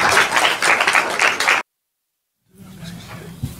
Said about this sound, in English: Let's give our softball team a round of applause.